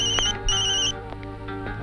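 A telephone rings with an electronic ringtone, two bright tonal bursts close together over a faint background hum, no voices.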